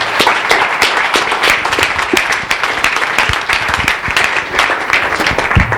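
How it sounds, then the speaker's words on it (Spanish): A room full of people at a philanthropy study presentation gives loud, sustained applause, with sharp individual claps standing out from the dense wash of hands. "creo que se merecen un gran aplauso por este trabajo."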